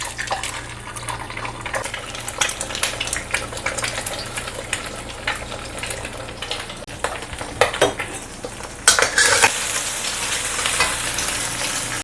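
Tiwul fried rice sizzles and crackles steadily in a pan with egg and bean sprouts, a close, continuous frying hiss with scattered clicks of stirring and a louder burst of sizzling near the end.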